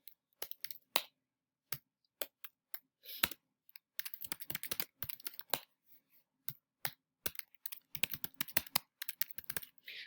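Typing on a computer keyboard, quiet irregular clicking in short bursts and longer fast runs of keystrokes, close and alone with no talk.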